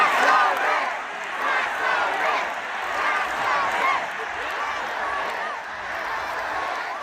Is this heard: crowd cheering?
yes